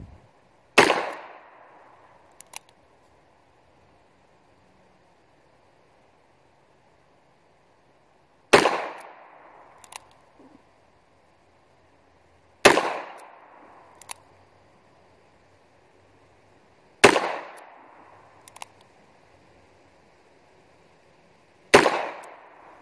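Ruger SP101 revolver fired at 7 yards: five sharp, loud single shots spaced several seconds apart, each with a short ringing decay and faint handling clicks between.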